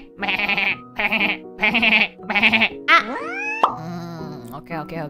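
Goat bleating in front of a house, a run of loud, close wavering bleats in quick succession followed by a longer rising cry and softer trailing calls, with no talk over them.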